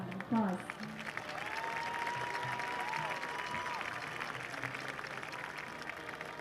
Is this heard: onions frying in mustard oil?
no